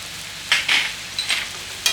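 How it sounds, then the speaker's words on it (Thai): Liver stir-fried with ground chili, curry powder and turmeric gives a steady soft sizzle broken by three or four short scraping strokes of a spatula against the pan, close and alone with no talking. "แล้วก็ผัดคลุก พอคลุกเข้ากันแล้วปิดฝา"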